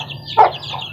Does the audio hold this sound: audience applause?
no